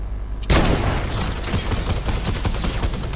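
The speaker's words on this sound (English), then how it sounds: "So I'm gonna just fuck him up with a minigun." A minigun fires in Fortnite, a dense rapid stream of gunfire that starts abruptly and rattles on loudly without a break for several seconds.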